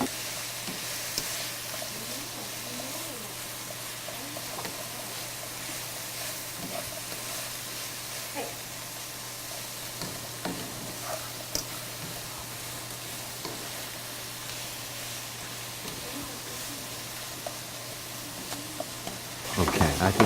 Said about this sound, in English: You can also feel when you start to stir it that everything gets a little bit softer.